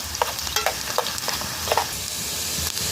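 Onion and chile fry in a pan for salsa verde, a loud, close, continuous sizzle broken by a few sharp scrapes and knocks of a spoon stirring, with no speech.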